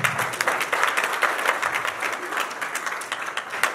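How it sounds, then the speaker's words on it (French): Applause from guests at a civil wedding ceremony, dense steady clapping from a room of people that holds evenly at close range for the whole stretch. "On applaudit pour lui encore."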